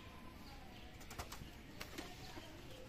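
A Rampuri pigeon takes off alone, its wings flapping in a few faint, brief bursts over a quiet, steady background.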